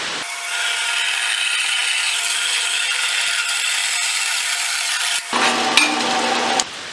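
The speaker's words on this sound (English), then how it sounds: "let's get on over to the metal cutting bandsaw, get that cut off" Metal-cutting bandsaw slicing through a steel horseshoe, a steady, loud, high-pitched grinding whine that runs on unbroken, then shifts in tone as the cut finishes near the end.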